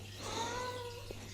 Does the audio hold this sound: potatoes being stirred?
no